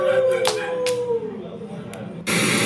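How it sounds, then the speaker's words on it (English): Dogs howl in a long wavering cry that slides downward, followed by short bursts of other sound, with a voice present alongside. "Whatever dogs howl."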